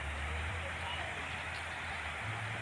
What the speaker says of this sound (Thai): ตอนนี้น้ำก็ล้นแล้วค่ะ น้ำมาแล้วค่ะ